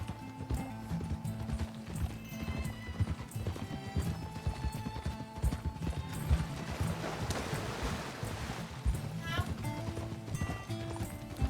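A horse in Red Dead Redemption 2 clip-clops steadily on its hooves, with an occasional snort or whinny over game ambience. Someone speaks at points above the hoofbeats.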